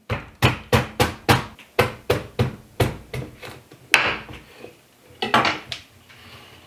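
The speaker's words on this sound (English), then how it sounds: "Be very careful and have a very sharp knife when you are cutting a squash." Sharp knife chopping into a spaghetti squash on a board, a run of about a dozen sharp, evenly spaced knocks followed by a few scattered heavier thuds, close and clear with no talking.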